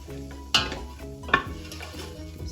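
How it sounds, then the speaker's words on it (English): Garlic sautés in a pan for Creole mixed greens, a soft sizzle beneath two sharp clanks of a utensil scraping and stirring against the pan. "I'm only going to saute the garlic for about a minute because we don't want the garlic to burn."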